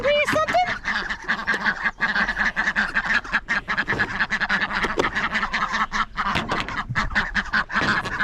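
Pekin ducks quacking repeatedly and close by, a busy overlapping chorus of short nasal calls with occasional louder honks.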